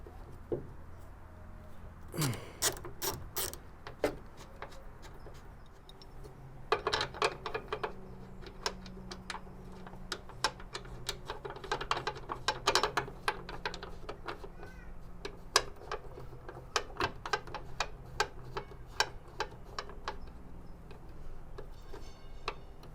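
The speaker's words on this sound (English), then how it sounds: "Just torque it till it stops and give it a little bit more." A ratchet tightens a mount on a 2025 Toyota Land Cruiser, giving close, crisp runs of rapid clicks in repeated bursts with short pauses between strokes.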